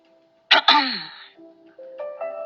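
A sharp, close throat-clearing burst, quickly doubled, followed by a soft tonal hum.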